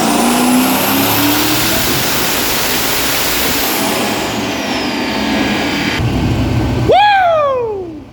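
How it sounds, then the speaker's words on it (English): A fully built twin-turbo 2008 Chevrolet Corvette C6 Z06 of about 1,100 horsepower roars loudly and close by under hard acceleration, its pitch climbing through the gears, then sweeping down sharply as the throttle snaps shut near the end. "You guys know this is a twin-turbo, fully built C6 Z06."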